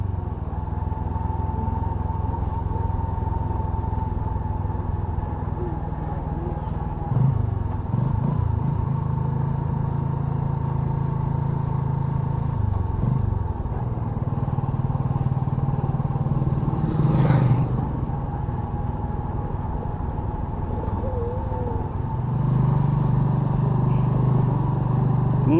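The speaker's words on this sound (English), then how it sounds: "They love riding a motorbike," Motorbike ridden through a sugarcane field surrounded by banana trees near a Philippine village, a steady close engine drone with rattling clatter, continuous for nearly half a minute with brief bumps and no speech.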